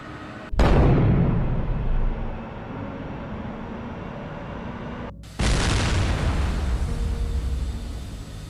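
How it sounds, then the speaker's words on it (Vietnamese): Two sudden loud booms from the number 2 engine of a Qantas Flight 32 airliner in flight above 7,000 feet, each followed by a sustained roaring rumble, the second blast hitting hard after a brief drop in the noise. "đột nhiên máy bay phát ra một tiếng nổ lớn."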